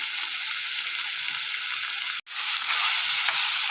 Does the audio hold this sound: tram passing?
no